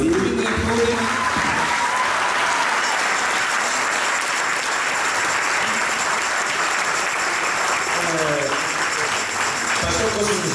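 Steady, dense applause from a church congregation at a thanksgiving service in London marking Angola's independence anniversary, loud and continuous for the whole stretch, with a voice and singing faintly over it at the start and end.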